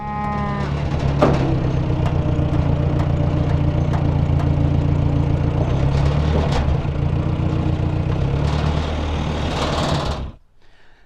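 A farm tractor engine runs with a steady, loud low drone beside cattle waiting for hay, while cows moo loudly and repeatedly over it before the sound cuts off abruptly near the end.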